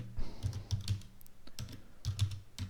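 Keys clatter on a computer keyboard while code is typed, quiet close taps arriving in short uneven bursts with brief pauses between.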